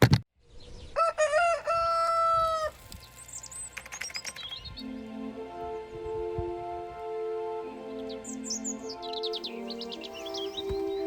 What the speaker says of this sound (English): So apparently insulation doesn't block out the sound of birds, or squirrels